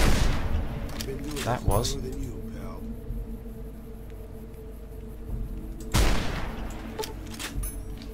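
Gunfire in the video game Fallout: New Vegas: a sharp close shot and a burst of rapid shots, then another loud blast later, over a steady game background hum while someone talks briefly.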